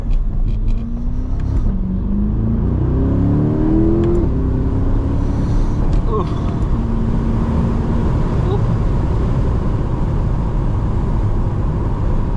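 An Audi R8 drives in Florida, its engine revving and rising in pitch as it accelerates early on. Steady road and wind roar follows, loud and close throughout.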